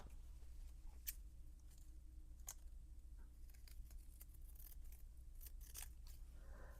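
Scissors snip through paper during bookbinding work on a signature: a string of crisp, irregular cuts close to the microphone over a quiet background hum, with no talking.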